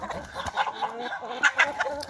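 Chickens cluck in short, close bursts around a feeder shared with geese, a busy scattered run of fowl calls over a few seconds with no talk.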